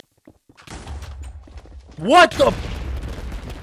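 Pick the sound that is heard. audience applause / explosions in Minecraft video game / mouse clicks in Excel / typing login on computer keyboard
explosions in Minecraft video game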